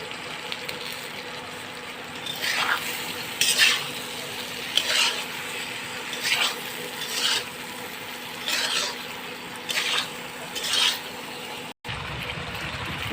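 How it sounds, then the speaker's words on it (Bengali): Vegetables stir-fried in a pan for a thin rohu fish curry, a constant soft sizzle broken by periodic louder scraping strokes of a spatula against the pan, with no voices. "এবার সবজিটাকে কষিয়ে নেব, ভেজে নেব"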